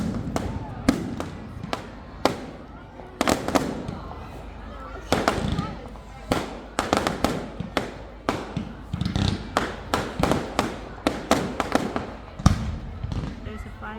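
Fireworks burst repeatedly at an outdoor display, sharp booms and crackles popping at irregular intervals throughout, fairly close and loud, with people talking and exclaiming in the background.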